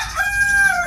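A mestizo gamecock crows once, loud and close, a single sustained cock-a-doodle-doo cut off at the end.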